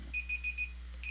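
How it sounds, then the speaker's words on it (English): A kitchen-style timer alarm goes off with a run of short, bright electronic beeps in an even rhythm, a brief pause, then another beep, close and clear over a faint low hum. "that was my timer"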